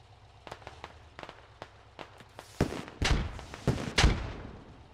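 Sharp gunshots crack through a tactical video game firefight in Operation: Sentinel, starting as scattered single shots and building into louder, denser bursts of rapid fire in the final seconds.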